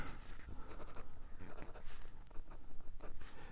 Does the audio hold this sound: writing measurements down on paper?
yes